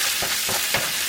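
Liver sizzles in a pan with butter, olive oil and spices, a steady close frying hiss with a few soft stirring scrapes roughly every quarter second.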